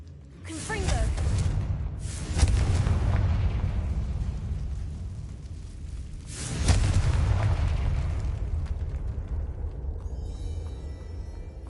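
Repeated Confringo blasting-spell explosions in Hogwarts Legacy on PS5: a sharp burst followed by two more heavy booms with long rumbling tails, loud and close, with a brief high chiming near the end.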